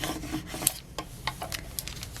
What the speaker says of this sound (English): Let's go over it with our little brayer tool here, and then our scraper tool